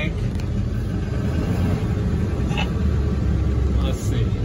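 A 2000 Ford F-550 truck with its engine running in drive, a steady low rumbling drone heard from inside the cab with someone talking over it.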